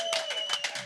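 A live audience claps in a quick burst of applause, steady and close, cheering the crowd after a drinking-games show segment.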